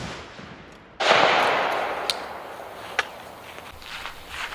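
A .223 rifle round is fired through an expired level IIIa soft armor vest, one sharp loud outdoor crack with a lingering rumbling decay, followed by two faint, thin ticks a second apart.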